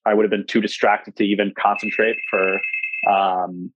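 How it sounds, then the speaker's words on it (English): An apartment intercom buzzer rings as a steady, high electronic tone lasting over a second, sounding beneath continuous close conversational talk. "the delivery people will just hit every apartment like buzzer to try to just get in."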